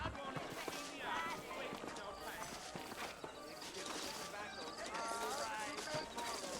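Horse hooves clip-clopping in the Western video game Red Dead Redemption, a steady walking rhythm of several horses under continuous character dialogue and background game ambience.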